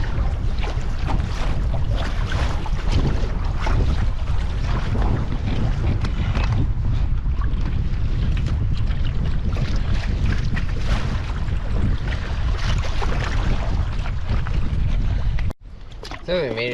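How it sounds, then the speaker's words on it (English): Wind and choppy waves on a lake heard from a canoe: a loud, continuous roar of gusts buffeting the microphone mixed with water wash, cutting off abruptly near the end. "a lot of weird conflicting waves and wind"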